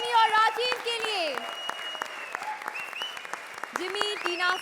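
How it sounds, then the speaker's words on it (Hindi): Studio audience applause for contestants Vikrant, Rashmi and Rajeev on a TV comedy show, a dense patter of claps running under loud music and voices throughout. "जोरदार तालियां विक्रांत, रश्मि और राजीव के लिए।"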